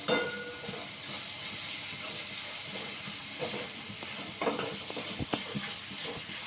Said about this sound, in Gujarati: આ મીઠો ને હળદર કરીને આપણે આ ગ્રેવીને હલાવી લઈએ